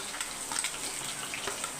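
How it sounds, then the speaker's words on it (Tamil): Curry leaves, green chillies and onion frying in a pan, a faint steady sizzle with light crackles and stirring, no talking. "அதுக்காக இப்போ வந்து கருவேப்பிலை போட்டுக்கலாம், 2 பச்சை மிளகாய், மீடியம் சைஸ் வெங்காயம்,"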